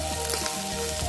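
Boiled, chopped potato pieces hit a hot frying pan for a soybean, potato and pea dish, giving a loud close sizzle with crackles, brief and without speech.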